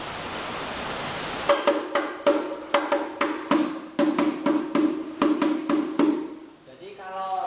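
Hadroh frame drum played in the pukulan naikkan pattern, a run of about a dozen sharp, evenly spaced hits, close and loud, ringing briefly between strokes before fading at the end.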